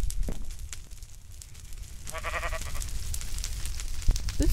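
Sheep bleating in Minecraft, a few short wavering bleats standing out over a busy game background during a woodland mansion fire, moderately loud with no talk.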